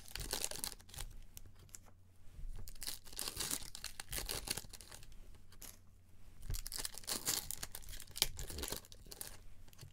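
Foil packs of Supergirl trading cards being torn open, with a steady run of close crinkling and ripping bursts and brief pauses between packs, no voices.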